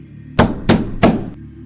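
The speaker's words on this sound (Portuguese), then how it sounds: "e 3 batidas na porta" Three sharp, loud knocks on a door, evenly spaced in quick succession over a low background hum, used as a horror story sound effect.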